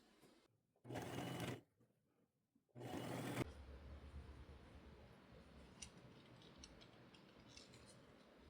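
Sewing machine stitching a skirt ruffle in two short bursts, then a longer steady run of rapid mechanical chatter, close and clear with quiet pauses between.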